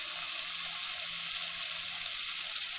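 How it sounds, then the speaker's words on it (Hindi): Spice masala of salt, turmeric, coriander powder and red chilli fries in a pan for egg spinach curry, giving a steady, soft, even sizzle with no voices. "और मसाले को छोटे छोटे भून लेंगे।"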